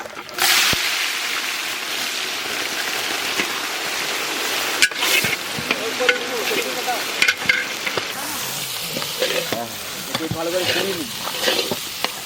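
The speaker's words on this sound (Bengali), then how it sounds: "ফোড়নে নিয়েছি গোটা ধনে, গোটা জিরে, তেজপাতা আর গোটা গরম মশলা" Whole coriander, cumin, bay leaf, whole garam masala and onion sizzling in hot mustard oil for chicken curry, a loud continuous sputtering fry with stirring scrapes and splatters.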